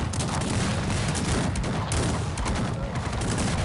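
Massed cannons fire in a big Cossacks 3 multiplayer battle, a dense, continuous, loud barrage of overlapping booms with no pauses.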